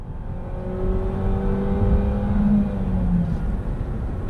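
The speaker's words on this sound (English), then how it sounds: "now we're going to get it up to highway speeds here. We're going to kind of push that engine just a little bit" A 2017 Jeep Compass engine pulls up to highway speed from inside the cabin, a loud, steady rising drone with climbing engine tones over road rumble, shifting once midway.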